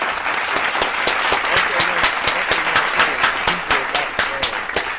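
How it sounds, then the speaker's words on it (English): Audience applause effect with dense clapping that runs steadily throughout, loud and close, while someone talks over it. "Y'all clap it up for Montana. Clap it up, for real."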